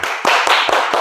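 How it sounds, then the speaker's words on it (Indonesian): Scattered hands clap in brief applause from a small audience at a class presentation, a few quick sharp claps in about a second. "kasih tepuk tangan"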